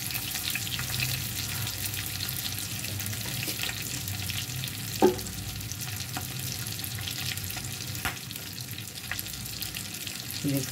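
Kebabs frying in a pan at home, a steady low sizzle running throughout, broken by a few brief clinks or stirring knocks near the middle and toward the end.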